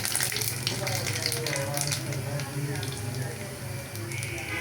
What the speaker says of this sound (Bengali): আমি মাছ ভাজার তেলের মাঝে